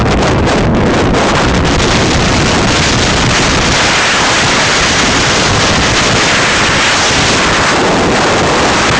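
Strong, gusty wind roaring across the microphone on a stormy day at Sumburgh, a loud, continuous broadband rush with buffeting low rumble throughout, no voices.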